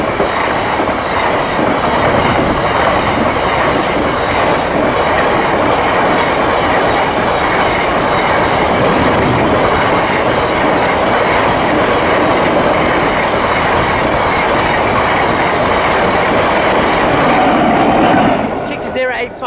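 A Class 66 freight train passes a level crossing on the East Coast Main Line near Morpeth, a loud, continuous clattering roar of rumbling wagons and wheels close by for nearly twenty seconds before it begins to fade.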